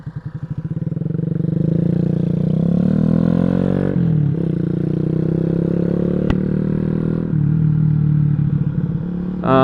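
A Boom Vader 125 motorcycle engine rumbles loudly and continuously up close, its pitch rising and shifting as the bike rides along.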